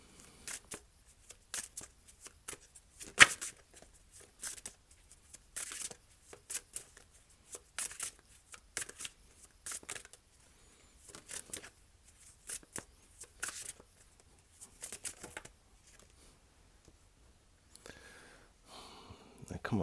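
Tarot cards being shuffled for a reading, giving repeated short papery riffling bursts in an irregular rhythm, close and fairly quiet, with brief pauses between bursts and no talk over them.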